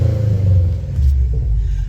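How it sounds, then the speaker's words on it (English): Deep, loud rumbling idle and a brief rev from a Subaru with a manual transmission, heard close with a low throaty burble and no talking. "Let me give you a quick little rev."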